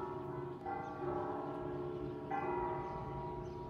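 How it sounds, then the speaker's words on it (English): Church bells ringing at noon, a steady sustained peal of several bell tones with fresh strikes swelling in at intervals, heard from a moderate distance with no talking. "It's noon, everyone. Hear the bells?"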